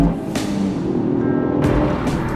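A Toyota GR Yaris hatchback with a compact 3-cylinder turbo engine, 260 horsepower, pulls hard under full throttle, a steady loud engine drone with changing harmonics running throughout and no voices.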